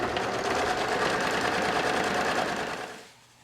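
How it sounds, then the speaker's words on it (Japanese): A sewing machine stitches a tuck on the back bodice of a top, a close, fast, even whirring run that slows and stops near the end. "後ろ身ごろのタックを縫おう。"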